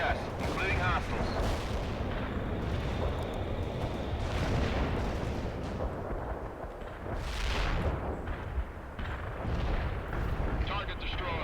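Heavy artillery barrage in the real-time strategy game World in Conflict, a dense, continuous roar of booming explosions and rumbling impacts layered over one another, loud and sustained with brief lulls.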